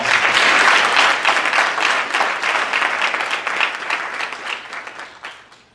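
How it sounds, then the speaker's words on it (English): An audience at a leadership talk gives a loud, dense round of applause for a group of young men, holding strong before gradually tapering off. "let's give all of them a nice round of applause"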